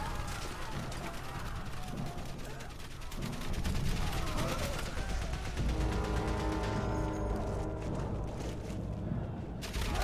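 Gunfire in the WWI game Valiant Hearts: The Great War, dense crackling rifle and machine-gun fusillade with occasional heavier crashes, loud and continuous throughout amid battlefield noise.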